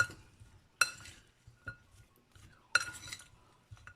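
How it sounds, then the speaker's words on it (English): Curried chicken feet are mixed in a bowl with a spoon, producing sharp metallic clinks against the bowl at irregular intervals, with soft wet stirring and scraping between them, close and fairly quiet. "I mix this in. Mix it all up so everything can combine."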